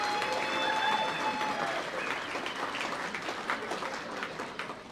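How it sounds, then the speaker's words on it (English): A room full of people at an awards presentation night claps steadily for about five seconds, a dense sustained applause that slowly thins toward the end. "Round of applause"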